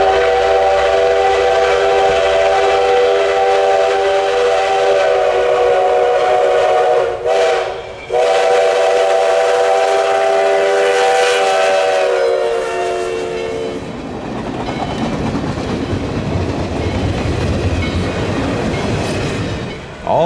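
Steam trains pass beside Fish Eating Creek, a loud, sustained steam whistle blowing steadily with a brief break, then giving way to rumbling, clattering railcars rolling close by, with no talk.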